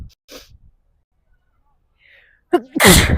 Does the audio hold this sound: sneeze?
yes